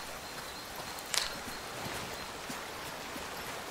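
A waterfall in the video game Among Trees produces a steady, soft rushing wash of water, faint and continuous, with a brief rustle or step partway through and no speech.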